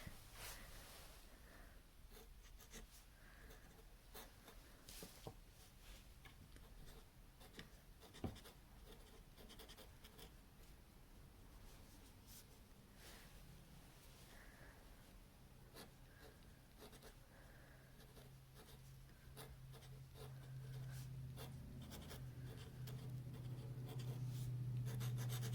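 Pen nib scratching across paper in quiet strokes, laying down Waterman Absolute Brown fountain pen ink; faint, close-up writing that runs steadily, with a low hum creeping in near the end.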